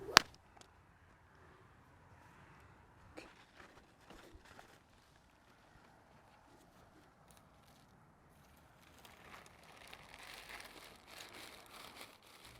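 Plastic bag crinkling beside a young horse, faint rustles and a sharp snap at the start, then louder sustained crackling toward the end, with soft movement noises between.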